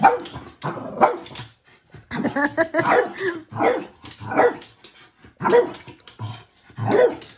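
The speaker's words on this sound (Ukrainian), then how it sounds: "Чого ти гавкаєш?" A dog barks in repeated short bursts at close range, loud and spaced roughly every second, with people talking in between and over the barks indoors.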